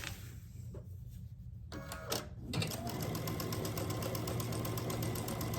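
A sewing machine stitches a quarter-inch quilt block seam, starting after a couple of brief clicks and running as a fast, even, close mechanical whir to the end.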